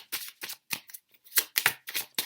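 Tarot cards shuffled by hand in a quick series of crisp riffling bursts, about eight short flutters with brief gaps between them, close and clear, with no talking.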